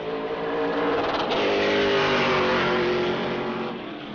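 A Pro Late Model race car laps New Smyrna Speedway during qualifying, its engine roaring loud and steady as it passes, rising then fading slightly toward the end.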